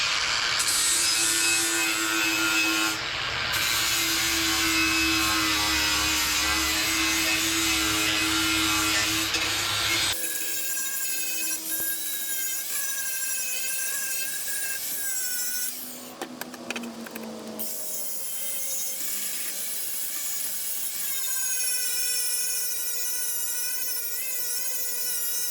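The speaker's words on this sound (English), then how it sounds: "I have a flapper disc. And I find that works really well for sharpening blades." A flap disc grinds steel to sharpen a lawn mower blade on a workbench, a loud continuous whining rasp that shifts tone partway through and settles into a thinner buzzing grind.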